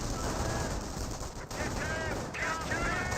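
Infantry rifle and machine-gun fire rattles in Company of Heroes, a dense, continuous crackle of shots running the whole way through while someone talks over it.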